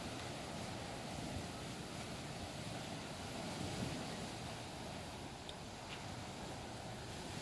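Ocean surf at sunset beside a beachfront hotel, heard as a steady, fairly loud wash of waves mixed with wind rumble on the microphone, with no voices throughout.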